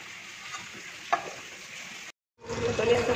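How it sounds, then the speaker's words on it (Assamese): A pan sizzles steadily while food is stirred and fried for an Assamese dish of rohu fish, lentils and vegetable stems, with a sharp utensil scrape midway, a brief break, then louder sizzling. "এইখিনি ধুনীয়াকৈ ভাজি দিম"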